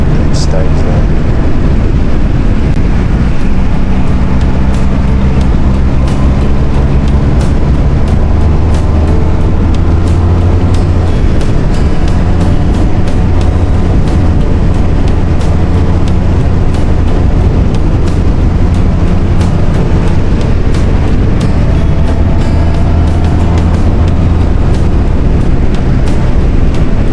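A Honda VF1000R motorcycle leans through a bend on a country road, its engine a continuous loud drone with steady harmonic whine and heavy wind buffeting, running unbroken for the whole stretch with no talk.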